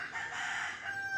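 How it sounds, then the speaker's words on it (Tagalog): A rooster crows in a sustained, strained call on a farm where chickens are kept, fairly faint and somewhat distant, with steady background noise. "Marami tayong alagang manok dito"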